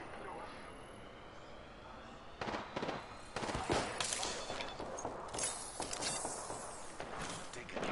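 Gunfire in the video game Apex Legends, a series of sharp shots in short irregular bursts at moderate volume over a low game background, with people talking at the same time.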